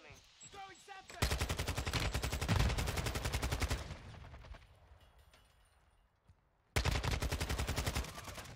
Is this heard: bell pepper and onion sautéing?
no